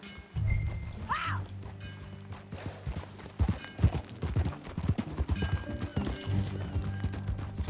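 Horse hooves clip-clop at a walk in Red Dead Redemption 2, close and uneven, with a brief whinny near the start and a low rumbling bed beneath.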